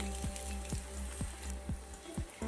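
Coriander seeds, cumin, fenugreek, dried red chillies and garlic fry in hot oil over a low flame, a soft continuous sizzle with faint regular ticks and a low steady hum underneath.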